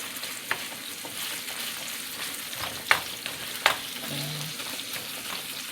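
Ground meat sizzles in a pan for a spaghetti dinner, with a steady close crackle and occasional utensil clicks and stirring; a short spoken word slips in.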